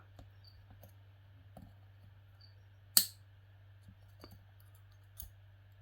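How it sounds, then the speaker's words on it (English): Wire snips cut bonsai wire on a Mimosa pudica tree, giving one sharp, close snip in a quiet room, surrounded by a few faint clicks and small handling taps over a low steady hum. "So I've got my trusty wire snips."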